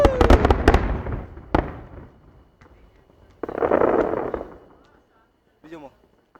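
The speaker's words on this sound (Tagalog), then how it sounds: "Yan yung mga paputok na binili ko." Fireworks at an Eid celebration go off in sharp loud bursts and crackling booms, some trailing off into rumbling decay, separated by brief quieter gaps, with faint voices in the background.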